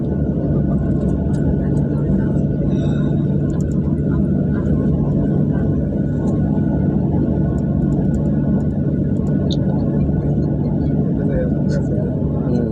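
Steady loud airplane engine drone heard from inside the cabin during a night flight, a constant low rumble and hum throughout, with faint voices nearby.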